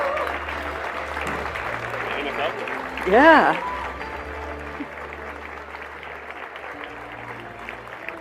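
Festival panel audience applauding with enthusiasm, moderate and slightly distant in a hall, easing off as a speaker begins talking over it and a brief whoop rises in the middle.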